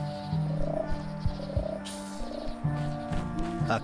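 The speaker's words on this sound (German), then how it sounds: "Frosch." A frog croaks in the Monkey Island adventure game, soft repeated low croaks under a steady layer of game music and ambient tones.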